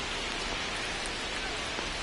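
Steady rain falling over a baseball field, a dense even hiss of drops at moderate level throughout, no speech.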